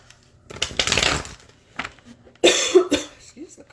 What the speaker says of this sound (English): Excuse the cough.